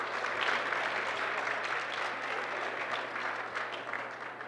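Audience applause at a chamber of commerce gala in Toronto, a steady, dense wash of many hands clapping in a hall, sustained throughout and tapering slightly at the end, with no talking over it.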